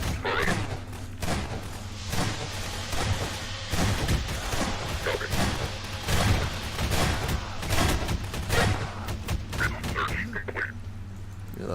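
Grenade explosion in the Lambda Wars real-time strategy game, heard among a dense run of booms and gunfire bursts spread through the clip, with a constant low hum underneath.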